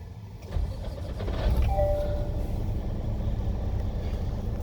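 A custom Peterbilt 389 truck with a column-shift automatic cranks and its engine catches, settling into a low steady idle close by.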